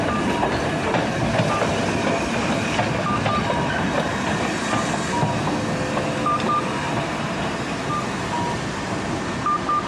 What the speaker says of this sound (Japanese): 市役所前電車が今ちょうど通過して赤字線を渡る。